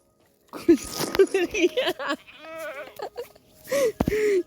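Goats bleat repeatedly, loud and close, with people talking in between the wavering calls.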